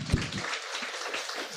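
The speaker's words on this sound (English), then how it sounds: "please join me in giving a round of applause to the awesome panelists" An audience applauds panelists at the Shamiri Summit 2025, a steady burst of clapping from a crowd that stays fairly even for its whole length, with no talk over it.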